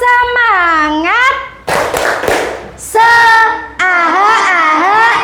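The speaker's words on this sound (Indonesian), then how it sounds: "Tepuk semangat." Group of voices rhythmically chanting a classroom clapping ice-breaker during a primary science lesson, with sharp hand claps and thumps landing between the sung syllables, close and loud.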